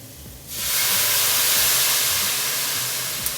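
Pureed tomato hits a hot pan to deglaze stuck Punjabi chana masala ingredients, bursting into a loud, steady steam hiss after a brief quiet start that holds and slowly eases, with no talking.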